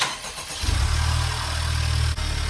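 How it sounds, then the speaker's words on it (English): A 2020 Honda Civic Type R engine starts up after a hose is fitted: a short quiet moment, then the engine catches into a loud, steady, close idle rumble that cuts off near the end. "All right, let's start her up."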